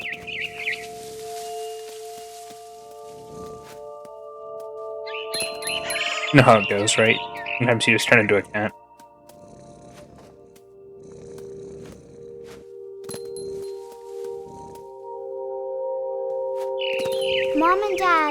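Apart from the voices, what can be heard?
bird chirping in the video game What Remains of Edith Finch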